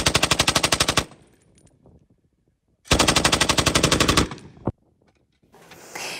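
Bursts of automatic rifle and machine gun fire at a training range, two long rapid strings of loud shots about a second each, separated by quieter gaps, with a short single burst after.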